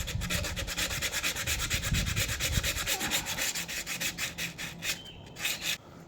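Repeated rubbing strokes with abrasive over the cleaned metal faces of a Land Rover Defender TD5 130 stub axle, a close, steady scraping rhythm in a quiet workshop.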